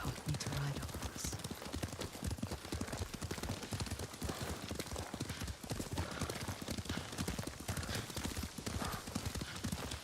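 Horse hooves clip-clop steadily and continuously as a rider travels on horseback in the video game Ghost of Tsushima, a dense galloping rhythm with faint game ambience behind it.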